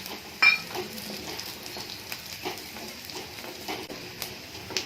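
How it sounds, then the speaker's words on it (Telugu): Tempering for Andhra-style drumstick curry sizzling in hot oil in a mud pot, a soft crackling hiss throughout with a few sharper pops and faint stirring clinks. "ఇప్పుడు వడి వేస్తాము"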